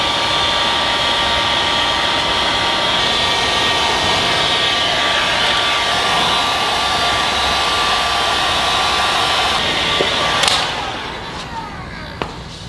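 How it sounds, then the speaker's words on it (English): A heat gun blows a steady, loud rush of air while edges of vinyl wrap are pressed down with a squeegee on a car near the headlight. It runs constantly, then cuts off near the end, leaving a couple of light clicks. "We're gonna grab our heat gun, guys, and we got our geek wrap squeegee right here"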